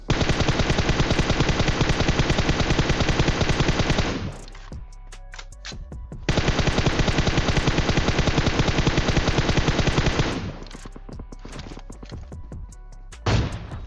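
Gunfire in a battle royale video game: long sustained bursts of rapid automatic fire, loud and close, broken by a short pause of scattered single shots and ending with a last sharp shot, with no voices.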